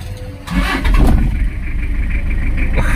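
A 2000 Toyota Kijang pickup diesel engine cranks and catches, then settles into a steady, loud rumbling idle close by.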